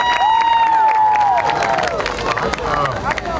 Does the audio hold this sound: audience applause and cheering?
yes